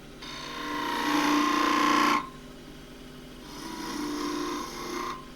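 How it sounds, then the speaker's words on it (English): A 3/8 spindle gouge cuts grooves into a turning wooden drawer knob, giving two close, rasping scraping passes separated by a short pause. "3/8 spindle gouge."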